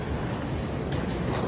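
Swiss SBB CFF passenger train running past, a steady broadband rumble and rush filling the moment without pause, with no voices.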